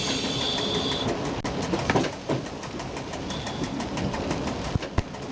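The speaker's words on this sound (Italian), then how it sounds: "il nostro treno entra ora nella stazione capolinea di Nuova Gorizia e si dirige al secondo binario" Train rolling into Nova Gorica terminal station on a diverging route at low speed toward platform two, with steady rumbling wheel and rail noise and a few sharp clacks, heard continuously from the cab.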